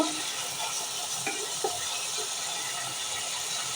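Cinnamon sticks and turmeric frying in a pan for a mixed vegetable curry, a steady dense sizzle throughout with a couple of faint utensil taps, close and continuous.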